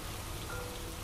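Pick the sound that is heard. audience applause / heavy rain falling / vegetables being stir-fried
heavy rain falling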